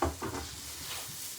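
Finely chopped chilli sizzling as it drops into a hot pan, a brief soft hiss after a couple of quick clatters, fading to a faint steady sizzle.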